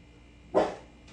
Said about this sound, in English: Jaden, can you see about the dogs?